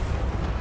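Fiery blast from the Confringo spell in Hogwarts Legacy, a dense low rumbling roar that fills the whole short moment at steady loudness with no voices over it.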